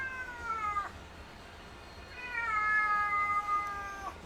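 A pet cat meows twice, close to the mic: a falling cry near the start and a longer drawn-out one later, over a quiet room.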